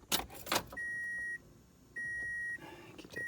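Keys jangle briefly as they go into the ignition of a 2003 Pontiac Vibe, followed by two steady electronic chime tones from the dashboard, each about half a second long, in a quiet car interior.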